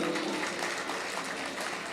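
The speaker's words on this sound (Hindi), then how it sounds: "एक बार तालियां बजा के इजाजत दें।" A mushaira audience applauds in a thick, steady wash of clapping that holds at an even level from start to finish.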